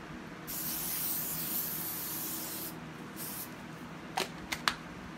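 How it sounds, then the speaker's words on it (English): Plastic polish hisses from a spray can onto the case of a Bernina 830 sewing machine in a long close burst and a shorter one, followed by a few sharp clicks and taps. "take our plastic polish here, and we're just going to put a light coating"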